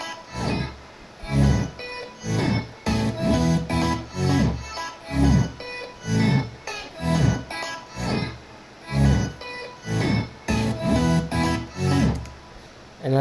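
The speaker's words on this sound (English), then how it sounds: "chords, bass, and vocal chops, sounds like this." A future house drop with pumping rhythmic chords, a bouncing bass line and short chopped vocal snippets repeating in a steady groove.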